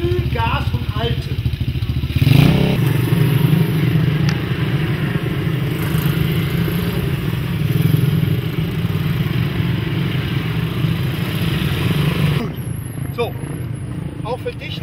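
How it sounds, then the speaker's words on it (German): A kids' adventure motorcycle at a drift-training course runs at a steady, held throttle, a continuous engine drone throughout with a brief louder swell, while an instructor talks over it. "Und jetzt gib mal mit Gefühl Gas und halte."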